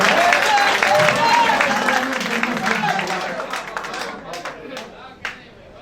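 At a poetry recital in Bhiwandi, a crowd claps and applauds while a voice carries over the start. The clapping thins out and fades, leaving a few scattered claps near the end.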